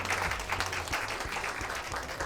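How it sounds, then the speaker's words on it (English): A room full of people applauds student chefs at the end of a school kitchen cooking competition, a dense, steady wash of clapping that holds at an even level for a couple of seconds with no voices over it. "let's give everyone a round of applause for the amazing job you guys did"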